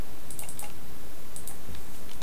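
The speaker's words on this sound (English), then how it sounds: "And I'm going to do some typing." A computer keyboard is typed on in short clusters of light, quick key clicks over a steady background hiss, with a pause between bursts and no speech.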